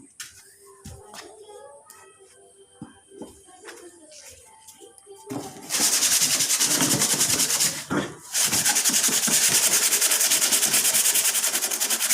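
A handmade wooden toy bus is sanded smooth. After a few quiet handling noises, loud continuous scratchy rubbing starts, pauses briefly, then continues close and steady.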